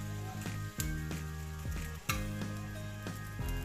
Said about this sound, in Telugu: నేనైతే పెనం మీదనైతే కాల్చుకుంటున్నాను. ఇలానైతే భక్షాలు అయితే వేసుకొని ఆయిల్ అయితే మంచి చుట్టూరుగానైతే పోసుకోవాలి.